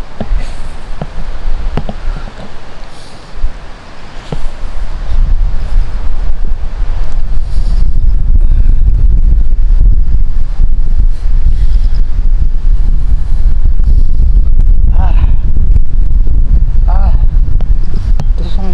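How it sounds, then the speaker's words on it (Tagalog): Strong, cold wind buffets the microphone at a Pacific-facing view deck in Dingalan, Aurora, with a continuous low roar, building after a quieter start and staying loud and gusty throughout. "Sobrang lamig dito. Saka mahangin."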